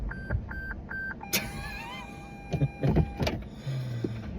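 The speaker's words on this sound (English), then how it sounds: "I'm gonna roll the windows down a little bit" Three quick beeps, then a motorized whir as the power windows of a Lexus RC F roll down, followed by a few thumps and clicks.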